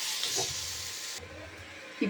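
Spinach with salt, turmeric and chilli powder is stirred in a frying pan, a soft hiss and faint sizzle with light stirring, quiet and close, no talk.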